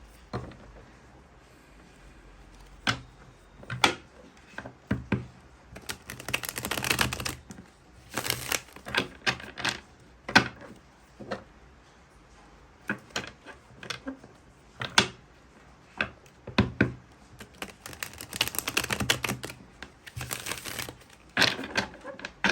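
A deck of tarot cards is shuffled over and over at close range, with repeated bursts of rapid papery riffling and flicking separated by short pauses, and no talking.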